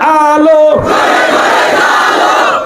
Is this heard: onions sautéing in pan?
no